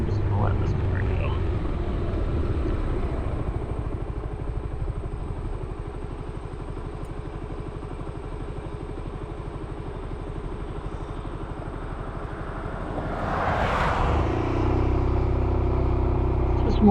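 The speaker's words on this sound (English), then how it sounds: "Actually, you know what? I'm just gonna let this car go." A car on an open highway slowly approaches and sweeps past, its engine and tire noise swelling near the end over a steady low road rumble from inside a moving vehicle.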